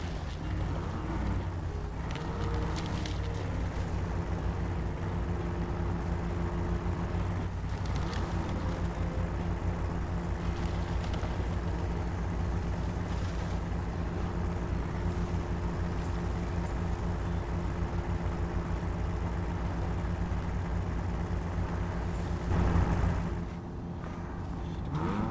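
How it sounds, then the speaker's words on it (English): American truck engine in the SnowRunner driving game, droning steadily and evenly at a moderate level for the whole stretch, alone and without talk. "Definitely sorted out the engine noise for this."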